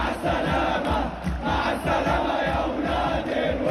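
Arena crowd at a WrestleMania match between Goldberg and Brock Lesnar jeering at the finish, a dense, steady roar of many voices that swells and dips slightly throughout.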